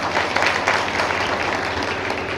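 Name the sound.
audience applause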